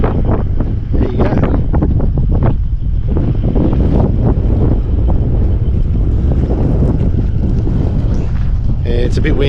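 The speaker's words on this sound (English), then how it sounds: "Yeah, it's a bit windy." Strong wind buffets the microphone throughout in Coober Pedy, Australia, a constant low roaring rumble with gusty bursts.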